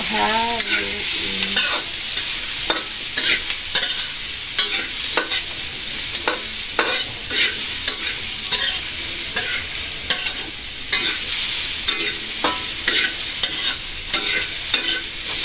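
Bean sprouts and tofu being stirred in a hot pan, a spatula scraping in steady repeated strokes over a continuous sizzle, close and fairly loud, with no talking.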